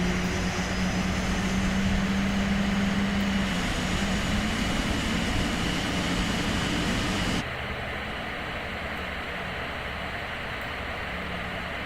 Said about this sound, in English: Oh, listen to that beautiful roar of T-19.